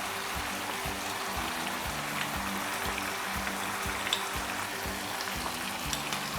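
Chicken fries with garlic ginger paste in a karahi, a loud, continuous close-up sizzle with a regular rhythm of low knocks from stirring against the pan.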